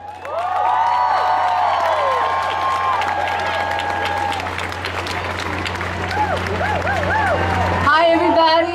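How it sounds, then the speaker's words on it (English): Crowd applause and cheering greet a speaker at an outdoor family rally in Brooklyn, steady dense clapping with whoops sustained throughout, voices chattering beneath and a sharper burst near the end. "Join me in welcoming her with an amazing round of applause"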